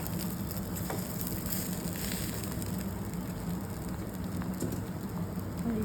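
Hot oil tempering for poha sizzling after a little water is added, a steady, dense crackle and hiss like light rain that stays even for several seconds.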